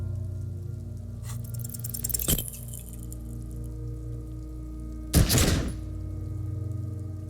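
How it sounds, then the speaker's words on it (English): Two sharp, loud gunshot blasts from a gun in the Disco Elysium video game, each a sudden burst followed by a brief ringing tail over a low steady hum. "A plume of smoke erupts from the barrel. Your hand goes numb from the explosion."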